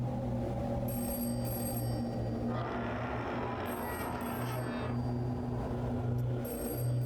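A telephone rings in the Hollowbody video game, a steady repeating ring with short pauses between bursts, over a low ambient hum, with no talking.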